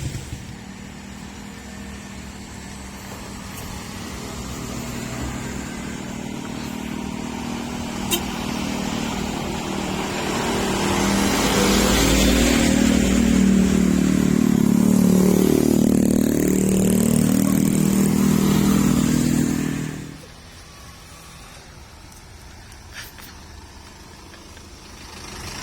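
Several motorcycles ride together toward farm fields near Lumajang, their engines droning loudly and swelling as they pass close, then dropping off sharply to a quieter idle hum near the end.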